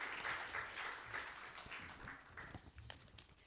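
Audience applause for the first presenter at a food gift challenge event, a fairly quiet, scattered clapping of moderate density that stays steady, then thins slightly with a few sharper individual claps near the end.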